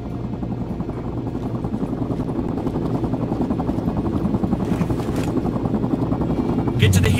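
A helicopter in the video game Sniper Ghost Warrior 3 gives a loud, continuous rotor chop that builds slightly, mixed with battle noise and muffled voices.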